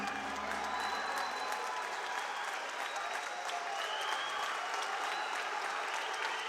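Crowd at a judo match applauding with dense, sustained clapping and some cheering. It sounds fairly distant and steady throughout.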